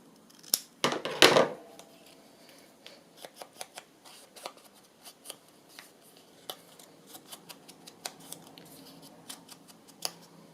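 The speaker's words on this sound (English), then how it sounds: "just going to trim that bit off a bit" Scissors trimming paper ephemera: a few sharp, close snips in quick succession, followed by quieter scattered clicks and paper rustles.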